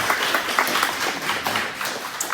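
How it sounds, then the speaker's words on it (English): A ceilidh audience gives a dense, steady round of applause for a musician's slow air, with many hands clapping together at close range for the whole stretch. "let's round of applause again for Lawrence for a beautiful job"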